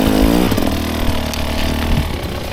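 A 2024 Husqvarna TE 300 dirt bike is ridden in second gear with the clutch pulled, its engine giving a close, rough, chainsaw-like drone that rises briefly, then settles into a lumpy, lower rumble.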